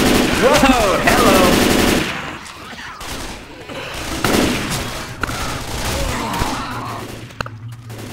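Assault rifle gunfire in Left 4 Dead 2, rapid automatic bursts up close, broken into several volleys with short gaps, thuds and a shout mixed in.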